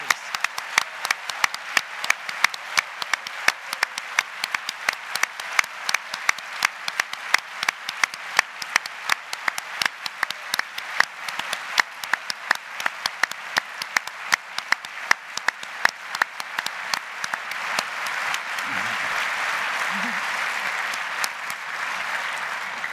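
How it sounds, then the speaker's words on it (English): Audience at the CHI 2023 conference closing keynote applauds its student volunteers, a dense sustained wash of many hands clapping close and loud for about twenty seconds, thinning into a softer crowd murmur near the end. "let's give a round of applause to our wonderful SVs"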